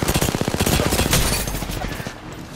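Rapid automatic gunfire from a weapon in the battle-royale shooter Apex Legends, a dense close burst of shots in the first half that thins and fades toward the end.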